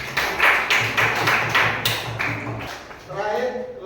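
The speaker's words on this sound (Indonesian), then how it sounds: "Kasih aplaus." Audience applause in a classroom or hall after a group presentation, a dense patter of clapping hands lasting a few seconds before fading, with a voice speaking briefly at the end.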